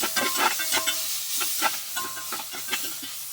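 Mushrooms crackle and sizzle in a little avocado oil in a hot pan with light, uneven popping and a few stirring scrapes, steady and close by.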